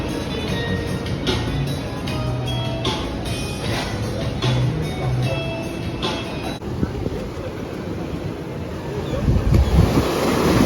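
Ocean waves and wind at Cocoa Beach, Florida: a loud, constant broadband roar of surf and gusting wind, with a brief low rumble partway through and a rising wash near the end.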